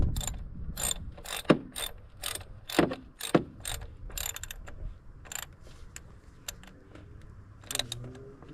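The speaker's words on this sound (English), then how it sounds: "We'll put the new one in. Screw it in. Clockwise to tighten." Ratcheting clicks come in quick bursts close by while a new PCV valve is screwed in on a 2014 Kia Rondo 2.0, with a few metallic clunks and knocks in between and no talk.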